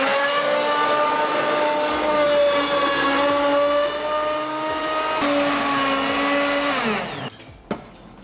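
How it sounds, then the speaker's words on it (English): A hand blender whirs steadily with a high motor whine, blending cooked vegetables for a curry gravy, its pitch shifting slightly as it works, then cuts off, followed by a soft clunk. "I'm going to use hand blender."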